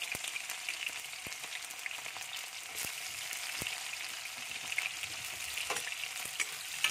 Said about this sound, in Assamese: পিঁয়াজখিনি মই ধুনীয়াকৈ সিজিবৰ কাৰণে দিম